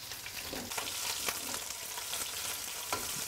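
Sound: chopped mushrooms frying in a pan

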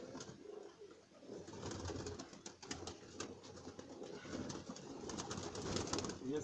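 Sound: Sialkoti pigeons cooing

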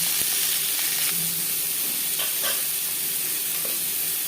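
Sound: potatoes sizzling as they are added to hot refined oil

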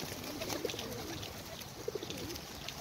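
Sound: pigeons cooing while being fed

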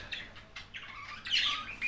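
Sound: pet birds chirping

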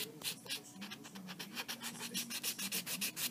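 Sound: filing a fingernail with a nail file

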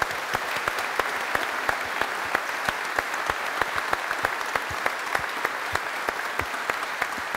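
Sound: applause

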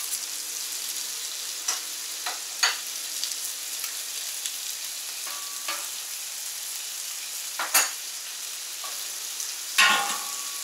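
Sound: potatoes frying in butter on Camp Chef FTG600 flat top griddle

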